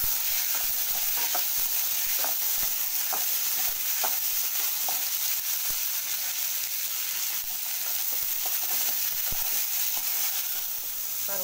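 Dried red chillies and tomatoes sautéing in a pan for tomato coriander chutney, giving a loud continuous hissing sizzle with faint intermittent spatula taps and stirs, close up and without voices.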